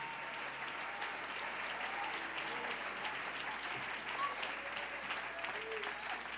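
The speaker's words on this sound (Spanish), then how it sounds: "Dele ese aplauso al Señor en esta hermosa noche" A church congregation gives a sustained round of applause at an evening service, a dense steady wash of clapping heard at a distance and fairly faint throughout.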